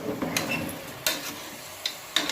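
Mutton stirred in a pot with salt and turmeric: quiet scraping and soft sizzling, broken by a few sharp spoon clinks against the metal at irregular intervals.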